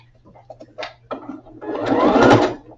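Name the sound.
sewing machine back stitching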